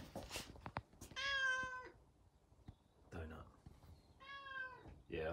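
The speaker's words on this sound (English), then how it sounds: "It's the cat in the window." A cat at a window lets out two drawn-out meows, the second a few seconds after the first, with soft background noise and brief clicks between them.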